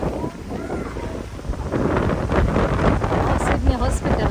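Wind gusts near Sydney Harbour, buffeting the microphone with loud, uneven low roaring that builds over several seconds. Faint voices and water sounds sit underneath.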